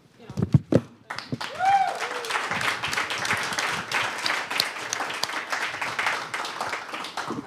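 An audience claps together at an event, starting with a few scattered claps that build into steady, sustained applause filling the room. A brief voice sounds near the start.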